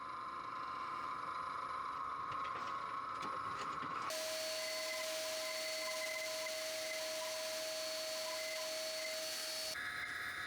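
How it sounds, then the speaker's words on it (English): A wood lathe whirs steadily as a woodturned Christmas ornament is sanded and then parted off, giving a continuous hiss and hum that shifts pitch partway through and carries a high whine. "I sand it smooth and part it off"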